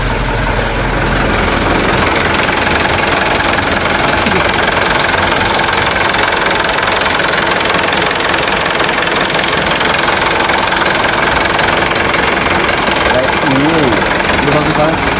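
A 2018 HDV truck engine idles loudly and steadily, its constant rumble with a knocking tone filling the whole stretch. A person talks over it.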